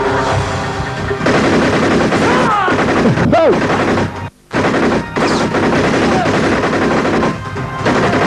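Gunfire from a film scene set in a forest, dense and sustained bursts with sharp impacts filling most of the stretch, a brief silent gap midway, with voices mixed in.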